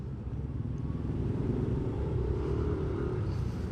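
Heavy road traffic in Binakayan, a steady loud rumble of car and motorcycle engines that stays dense and continuous throughout, with no talk.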